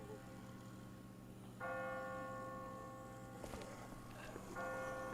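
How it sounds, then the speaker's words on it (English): Bells ringing in The Walking Dead video game, clear tolling tones that start partway through over a dull ambient drone and strike again twice more. "I just got spooked by those bells"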